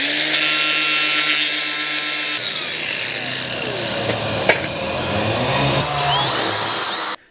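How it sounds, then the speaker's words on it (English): A power sander fitted with 80-grit wood sandpaper grinds over a fresh MIG weld, giving a loud, steady abrasive whir with rasping scrapes that changes pitch partway through. "I'm just going to run over it with a sander with wood sandpaper on. I think this is 80 grit,"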